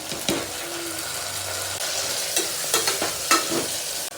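Tomatoes and dry chillies fry in a pan with a steady close sizzle, broken by several sharp scrapes and clacks as a spatula stirs them.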